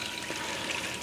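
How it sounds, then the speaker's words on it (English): Faint steady trickle and bubbling of coolant circulating through a freshly powered-up PC water cooling loop in a Corsair Obsidian 800D case, a soft continuous liquid wash with no talking. "So you see there's some bubbles still going on because I just powered this up."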